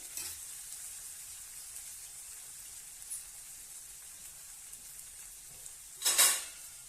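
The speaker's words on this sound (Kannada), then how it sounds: "ಸ್ವಲ್ಪ ಬಟಾಣಿ ಫ್ರೈ ಆಗ್ಬೇಕು ರೀ" Green peas frying in a pan with salt, turmeric and ginger for a cauliflower curry, a soft continuous sizzle ending in a short, louder burst of stirring.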